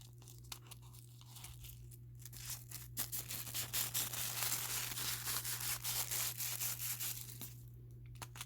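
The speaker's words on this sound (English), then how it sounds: "Comes with this little tissue paper in there." Tissue paper crinkling and rustling inside a small black box being unboxed, close and dense crackling that swells in the middle and tapers off, over a low steady hum.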